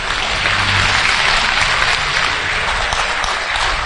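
Audience at a training seminar event applauds loudly and continuously, a dense, even wash of clapping from many hands with no pause.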